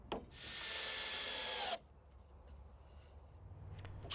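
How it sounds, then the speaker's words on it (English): Power drill driving headlock screws into a wooden swing set railing board, one steady loud whir of about a second and a half followed by quieter handling sounds. "And then drive in 2 screws."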